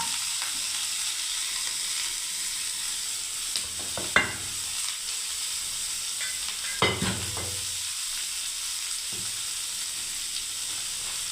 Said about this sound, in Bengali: এবার আমি এই সবজিগুলো সব দিয়ে দিচ্ছি ভাজার জন্য।